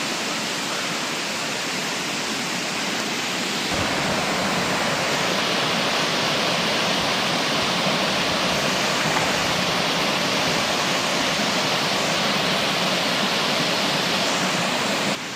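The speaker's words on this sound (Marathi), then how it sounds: "पाण्याचा आवाज येतोय" A loud, constant roar of falling water from nearby Varasgaon waterfall at Panshet, swelling to fuller strength after a few seconds and holding steady.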